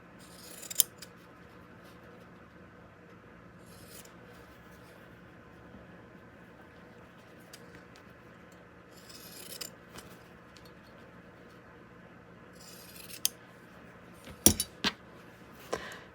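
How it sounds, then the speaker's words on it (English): Paper cut with well-worn pinking shears, a few sharp snipping bursts spread across a quiet room, faint and close, with the snips clustering near the end. "Maybe we'll do the pinking sheer thing again."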